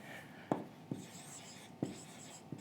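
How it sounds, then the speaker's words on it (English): A pen writes on paper during a calculation lecture, with four short, soft scratches spaced unevenly over a faint hiss of room noise, close by. "See, I write once again."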